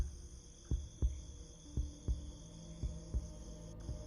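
A low, muffled heartbeat sound effect thumps in a steady double-beat rhythm over a quiet hum, used in a horror story.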